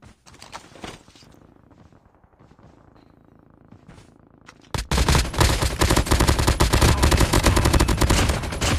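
Rapid automatic gunfire in the mobile shooter Call of Duty Mobile, starting with scattered quieter shots and then a loud, dense burst of sustained firing over the final few seconds.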